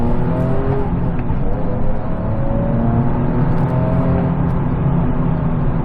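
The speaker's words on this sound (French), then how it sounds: "C'est entre 2000 et 3000 tours qu'elle fait des retours." A 2009 Nissan 370Z's exhaust crackles and pops as the engine rises through the 2000–3000 rpm range, a loud sustained drone with faint intermittent bursts on top.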